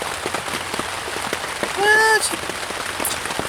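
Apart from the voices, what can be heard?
rain falling on a campsite tent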